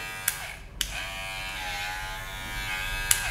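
A double-blade, American-made electric hair clipper runs with a strong, steady close-up buzz for several seconds, broken by a few sharp clicks.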